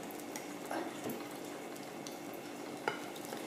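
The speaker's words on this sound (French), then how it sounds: "Là, vous mélangez les œufs" Eggs being whisked together with flour in a bowl give a soft, steady, wet stirring with occasional light taps against the bowl, close and quiet.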